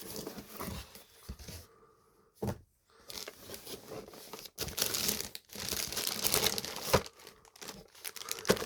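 Plastic packaging crinkles and rustles up close as a vintage Big Jim action figure set is opened, uneven bursts of crackling with short pauses and a brief tearing sound.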